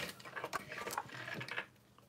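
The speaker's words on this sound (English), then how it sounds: "So I'm sewing down. These are the bottom, like, strap connector piece, so I'm just top stitching these." A home sewing machine top-stitches backpack strap connector pieces at a long stitch length, giving a quiet, rapid mechanical ticking and whirring that stops abruptly near the end.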